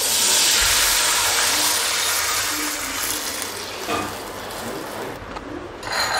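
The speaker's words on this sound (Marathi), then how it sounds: "त्यानंतर आता आपण 1 कप पाणी टाकूया।" A cup of water poured into a hot pan of fried chili flakes bursts into a loud, dense steam hiss that slowly eases and ends with a few bubbling crackles.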